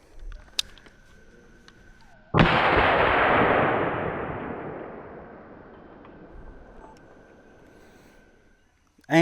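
A single loud gunshot from a Winchester Silvertip round fired into a ballistic gel block, with a sharp crack followed by a long, fading outdoor reverberation that trails off over several seconds.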